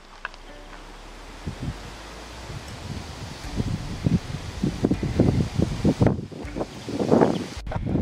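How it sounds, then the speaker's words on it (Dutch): Strong wind blows outdoors and buffets the microphone with steady rushing noise and repeated low gusty thumps that grow louder and rougher toward the end. "het waait echt hard"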